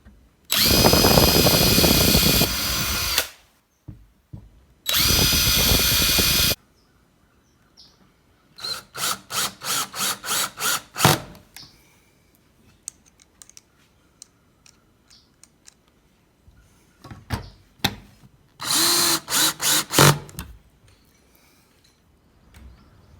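A power drill drives screws into a DJ flight case in short whirring bursts, close and fairly loud, separated by quiet gaps and a series of rapid clicking ratchet sounds.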